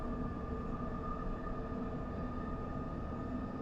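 London Underground Metropolitan line train running on track between Uxbridge and Aldgate, a continuous low rumble with steady tonal hum, heard from inside the carriage at an even, moderate level.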